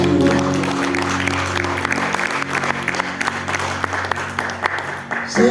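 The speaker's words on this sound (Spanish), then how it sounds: "Un aplauso para ti." A church congregation claps during an evangelist's sermon, a dense burst of applause that slowly thins out, heard with a sustained instrumental drone and some voices underneath.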